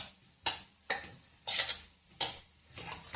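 Soaked sago stirred into cooked potatoes in a pan: a steady rhythm of about six scraping, tapping spoon strokes roughly half a second apart, close and fairly quiet, with no voices.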